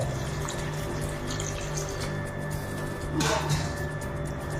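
Water pours into a pan of raw banana curry in a steady, close splashing stream with no talk over it.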